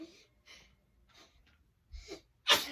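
A single sharp sneeze bursts out near the end, loud and close, after a stretch of quiet breathy sounds and faint murmuring.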